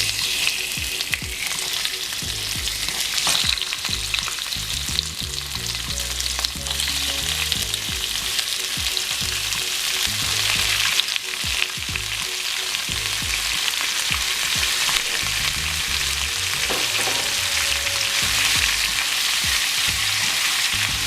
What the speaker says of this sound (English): Now we're just going to saute our shrimp until it gets that pinkish little color.